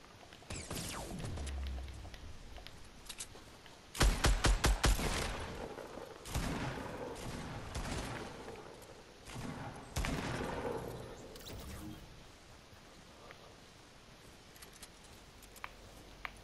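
Bursts of rapid gunfire in a shooter video game, one heavy volley of shots near the middle followed by scattered quieter shots, with faint background sounds between.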